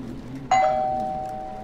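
A doorbell chimes once inside the video game 12 Minutes, a sharp strike followed by a long ringing tone that fades slowly, with faint background hum and no talk.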